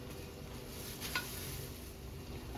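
Onions sautéing with spices and grated carrots for Saudi kabsa, a faint steady sizzle with one brief stirring clatter of the pan.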